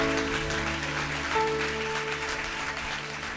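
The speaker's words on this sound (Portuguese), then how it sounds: "Você pode aplaudir a Jesus" A church congregation claps together during a sermon, a steady wash of applause over a sustained keyboard chord humming underneath.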